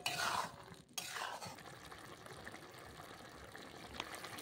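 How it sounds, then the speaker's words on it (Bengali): Sugar being stirred into a papaya and Gobindobhog rice vegetarian dish in a cooking pot, with soft scraping and gentle moist sizzling, a brief pause near the start, then steady low stirring throughout. "দিয়ে ভালো করে নাড়িয়ে দিচ্ছি।"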